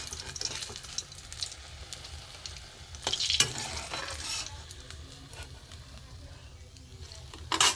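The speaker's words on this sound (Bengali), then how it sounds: "মাছের যে তেল ছিল ওটাই, বেগুন ভাজা হয়নি এখনো, মাছের তেল উঠেছে অনেকটা।" Eggplant frying in leftover fish oil in a pan during a fish curry preparation, a soft continuous sizzle with occasional stirring scrapes and crackles, fairly quiet and close.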